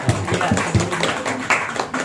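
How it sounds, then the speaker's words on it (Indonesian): An audience clapping hands at a community gathering, a handful of loose, uneven claps and taps spaced across a couple of seconds, fairly close and moderately loud. "Kita tepuk tangan dulu ini sama saya."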